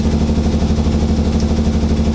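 A BMW E24 633CSi engine, after eight years sitting underground, idles steadily with a low, even, pulsing rumble, close by and continuous, with no voices; check engine light on.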